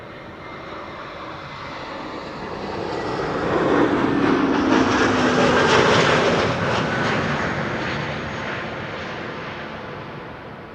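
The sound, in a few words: ITA Airways A321neo arriving at Amsterdam Schiphol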